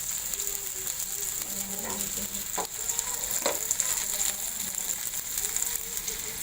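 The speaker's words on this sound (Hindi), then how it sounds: "बहुत कम ऑयल में फ्राई होते हैं क्योंकि इनको ऑयल कोट किया हुआ है मैंने" Chicken seekh kebabs coated in oil fry in a little oil, giving a steady close hiss and sizzle with a few soft clicks and scrapes throughout.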